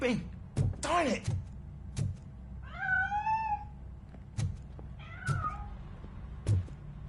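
Cat meows in the video game Robocop, several rising and falling calls around the middle, over low background music and thumps, with a voice talking in short bursts between them.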